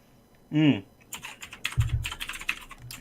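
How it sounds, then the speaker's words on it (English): Rapid clicking of computer keyboard keys typed in an irregular rhythm, close and moderately loud, after a short burst of voice at the start; a low thump sounds partway through. "I'm waiting for this guy to stop typing."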